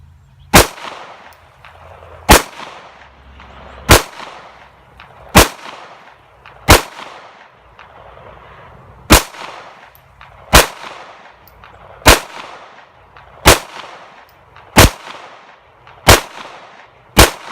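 A steady string of eleven sharp gunshots from a Diamondback AM2 pistol firing Speer 115-grain FMJ Lawman ammunition, spaced about one and a half seconds apart, loud and close with short echoing tails and no talking.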